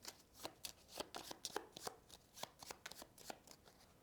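A deck of board game cards is shuffled by hand in a quick run of soft, papery riffles and flicks. The sound is close and fairly quiet, and nobody speaks.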